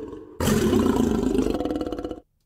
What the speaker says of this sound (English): And a lion.